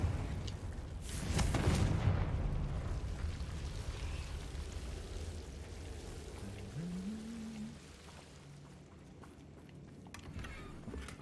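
A Confringo fire spell bursts in Hogwarts Legacy: a loud rumbling explosive whoosh swells early, then fades into a crackling, noisy tail with faint background game sounds.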